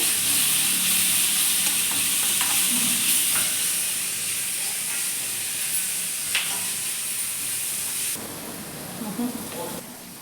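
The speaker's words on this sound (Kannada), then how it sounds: "ಶುಂಠಿ ಬೆಳ್ಳುಳ್ಳಿ ಹಸಿಮೆಣಸಿನ್ಕಾಯಿ ಪೇಸ್ಟ್ ಹಾಕೋತಾ ಇದ್ದೀನಿ ಇದು ಕೂಡ ಹಸಿ ಸ್ಮೆಲ್ ಹೋಗೋವರೆಗೂ ಚೆನ್ನಾಗಿ ಎಣ್ಣೆಯಲ್ಲಿ ಫ್ರೈ ಮಾಡ್ಕೋತಾ ಇದ್ದೀನಿ" Ginger, garlic and green chilli paste frying in hot oil for a fenugreek leaf gravy, giving a steady close sizzle and hiss throughout with occasional stirring scrapes.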